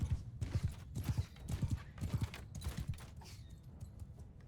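Cavalry hooves clip-clop in a rapid, uneven gallop during a Mount & Blade II: Bannerlord battle, loud and close at first and then thinning out, with a faint whinny among the beats.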